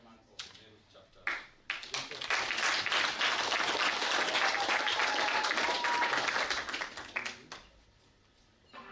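An audience applauding at a ceremony installing Meru governor Rev. Mutuma M'Ethingia as patron of the KNCCI Meru chapter, a dense burst of clapping that swells for several seconds and fades, with a few scattered claps at the edges.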